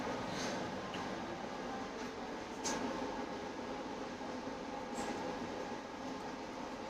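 A passenger train travels from Coimbatore Junction toward Alappuzha, giving a steady rumbling roar of the carriage with faint clicks and squeaks throughout.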